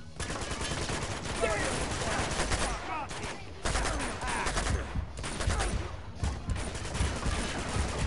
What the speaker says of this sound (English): Wait, this is a machine gun.